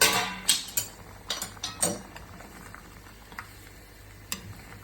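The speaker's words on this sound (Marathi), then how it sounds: "मोहरी शिजत आहे" Mustard seeds cooking in a pan for a Malvani-style baby shark fish curry, with scattered pops and a few sharp metallic clinks over a soft sizzle, close and fairly quiet.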